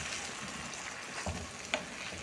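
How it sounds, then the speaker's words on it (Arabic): Meat frying in a pan with ghee for a prune and meat tajine, a steady close sizzle with a couple of brief stirring clicks near the end. "تقلى اللحم مليح"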